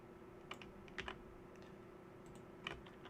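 A few scattered keystrokes on a computer keyboard while entering router configuration commands, faint irregular clicks over a steady low hum, with no speech.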